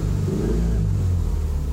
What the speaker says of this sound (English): Revving sounds fine.